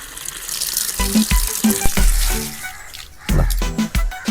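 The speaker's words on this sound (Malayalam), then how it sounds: "വെള്ളം ഈ പൈപ്പിലൂടെ വരുമ്പോൾ ഇതുപോലെയാണ്." Water gushes and splashes from a pipe in irregular surges, loud and close, with clunks and bursts of spray between pauses.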